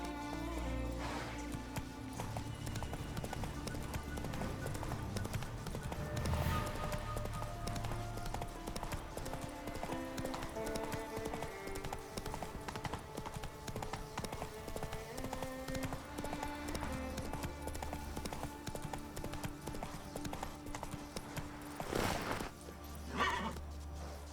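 A horse galloping in The Witcher 3: Wild Hunt, its hooves drumming in a continuous rhythmic clip-clop, with sharp whinnies breaking through twice and a faint voice in the background.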